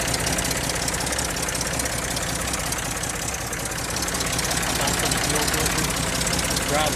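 A car engine runs steadily after a homemade fuel pump diaphragm repair, holding an even idle throughout at constant loudness.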